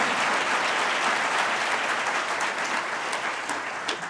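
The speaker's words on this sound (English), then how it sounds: "I'll let you clap." Steady, dense applause from an audience at a white coat ceremony, sustained at an even level throughout without any voices on top.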